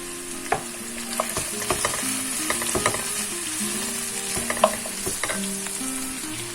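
Chopped pepper sizzles steadily in a hot pan while a spoon stirs it, with irregular clicks and scrapes over the frying hiss; no one speaks.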